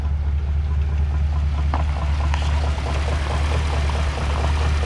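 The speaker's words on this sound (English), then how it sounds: "So you can see that's a reasonable little smooth idle there" A 1951 Mercury car engine idling smoothly at low revs, a steady, even, loud rumble that continues unbroken throughout.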